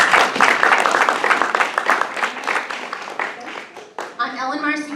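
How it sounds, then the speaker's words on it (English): An audience at a community candidate forum gives a dense round of applause that gradually thins out, and a single voice begins speaking near the end. "let's give a nice round of applause to thank our candidates"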